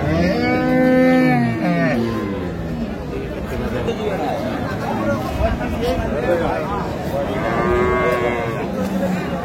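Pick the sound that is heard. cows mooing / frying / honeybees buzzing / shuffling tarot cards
cows mooing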